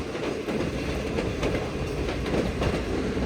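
Steady rumble and rhythmic wheel clatter from inside an economy-class carriage of the Green Line passenger train travelling from Lahore toward Karachi, continuous and fairly loud throughout.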